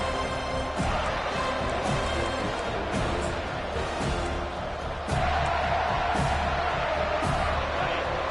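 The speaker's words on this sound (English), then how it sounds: "They challenge this crowd to bring the energy, and I'd say they're doing that." A football stadium crowd at a Florida State game roars steadily, a dense continuous wall of cheering that swells louder partway through, with no break.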